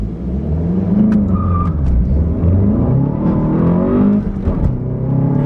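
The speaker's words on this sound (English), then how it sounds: "There's a car coming." A car approaches and passes close by with a steady engine drone and whirring tyres, loud throughout the few seconds with no talking.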